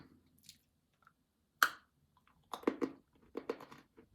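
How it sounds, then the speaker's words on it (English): A single sharp crunchy bite of a gingerbread biscuit, then a few crisp chewing crunches in short bursts, close and quiet with silence in between. "It's a very crunchy gingerbread"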